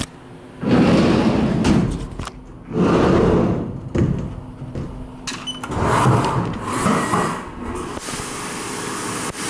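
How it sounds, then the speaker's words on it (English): A CNC machine in a BMX fabrication shop bores holes in Hutch aerospeed arms, giving loud bursts of broadband cutting noise about two seconds long, separated by quieter gaps and ending in a steadier hum. "I'm gonna get the CNC fired up here"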